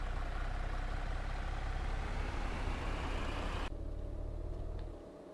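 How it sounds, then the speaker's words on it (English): A Renault Master diesel van idles in Euro Truck Simulator 2, a steady low engine rumble that holds evenly, then thins to a quieter, duller hum near the end. "it honestly sounds like a diesel van"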